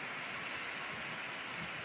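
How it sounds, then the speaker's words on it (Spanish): Steady rain falling over a garden with a melon plant, a constant soft hiss of rainfall with no distinct drops and no voices. "esta lluvia pues ni nos la esperábamos"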